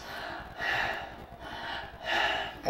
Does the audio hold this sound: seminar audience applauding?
no